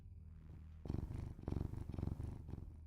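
A domestic cat purring right against the microphone, starting faint, then turning loud and close in rhythmic rumbling pulses with each breath, no talking.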